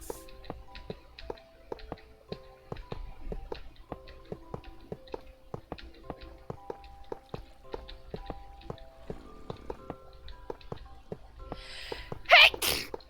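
A single sharp sneeze bursts out near the end, loud and close, over steady rhythmic clicking and ticking from a Minecraft game session.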